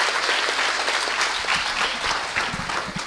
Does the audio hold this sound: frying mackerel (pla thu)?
no